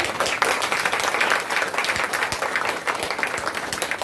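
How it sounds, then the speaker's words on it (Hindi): Audience clapping at an annual day celebration, a steady wash of applause from a sizeable crowd, even and sustained throughout with no pauses. "ताली तो बजाइए"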